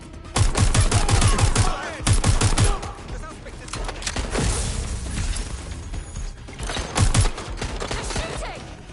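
Gunfire in the Watch Dogs Legion campaign, loud rapid automatic bursts and scattered shots in repeated volleys, dense and close, with mechanical clatter between bursts.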